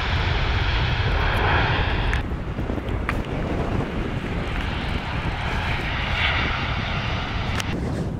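An airliner taking off at Schiphol airport gives a loud, continuous jet engine roar mixed with wind buffeting on the microphone, heard from fairly close.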